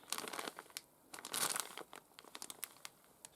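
A packet of craft trim, bought thrifting and still sealed, crinkles and rustles in handling, with bursts of crisp plastic crackling close by and short pauses between.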